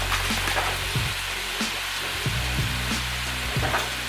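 Minced garlic frying in a pan for lasagna, a steady close sizzle running throughout with occasional soft stirring knocks, no voices.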